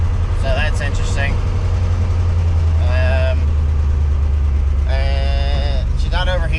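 A 6.0L LS-swapped Chevy S10 with low oil pressure idles with a loud, steady low rumble throughout, while voices talk over it in several short stretches.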